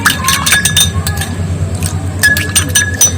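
A spoon stirs lemon juice into oil in a glass bowl for a homemade hair oil, giving a run of bright, close clinks and taps against the glass in quick irregular bursts.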